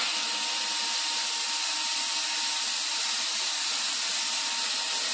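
A drill bores a hole through ukulele wood for a strap button, giving a steady, bright, high-pitched whine held for several seconds, close and continuous with no voices.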